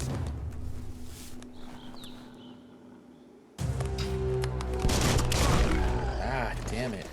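Video game gunfire from a weapon in Biomutant, a dense rattling burst that starts abruptly midway and continues loudly over a busy game soundscape, with a player's voice reacting.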